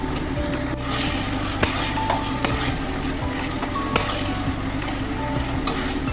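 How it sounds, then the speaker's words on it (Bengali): Spice masala with garlic paste and tomato is stir-fried for a mutton curry, giving a dense, continuous close sizzle with occasional sharp scraping and tapping strokes of a utensil in the pan, with no talking. "দিয়ে আবারও এই মশলাটাকে ভালো করে কষতে থাকবো।"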